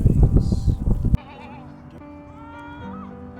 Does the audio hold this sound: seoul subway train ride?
no